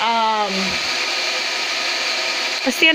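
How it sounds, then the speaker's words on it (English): A standard hair dryer blows on a wet electrical panel with a steady whirring hiss, held constant at close range, while a voice speaks briefly at the start and end. "blow dryer"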